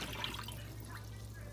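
Water is poured out of a kitchen vessel used to clean turkey wings, a brief steady splashing rush over a low hum, alone without talk.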